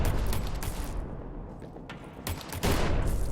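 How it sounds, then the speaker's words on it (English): Barrels explode in the strategy game Pandemic Train in loud, rapid crackling bursts like a volley of gunfire, pausing briefly before a second barrage. "those barrels got quite the explosion range"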